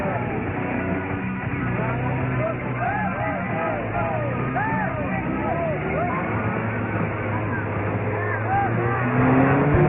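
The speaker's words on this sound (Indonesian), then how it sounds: "700 peserta dari berbagai wilayah memacu kendaraan di kelas SUV dengan kapasitas mesin" SUVs with 2000 cc engines racing in an off-road event at the Magelang Military Academy, engines revving and whining continuously at a moderate distance, with crowd noise and voices mixed in.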